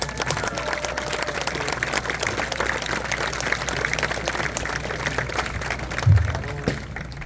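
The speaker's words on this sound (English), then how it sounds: "Please give these guests a round of applause." A large outdoor crowd at the Kailua High School class of 2023 graduation ceremony claps steadily for several seconds, a dense, fairly distant patter of many hands at an even level with a brief louder thump near the end.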